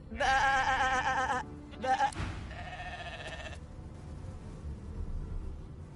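Sheep bleating in the video game Divinity II: two loud, wavering bleats, the second split into short bursts, over a low game ambience.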